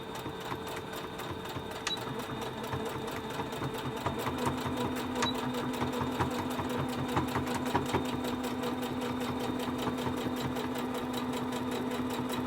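A sewing machine runs continuously, stitching fabric mask tabs with a fast, even mechanical chatter, close and steady throughout without talk.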